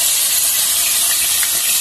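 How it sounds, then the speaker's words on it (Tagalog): Pork spare ribs frying in a pot before being made into adobo, giving a loud, steady hissing sizzle with no break and no talking over it. "I-fry muna natin hanggang mag-brown bago natin iloto."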